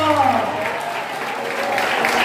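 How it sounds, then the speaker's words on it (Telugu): A church congregation at Sunday worship claps together, a dense, loud burst of applause with voices mixed in beneath the clapping. "గట్టిగా చప్పట్లు కొట్టు"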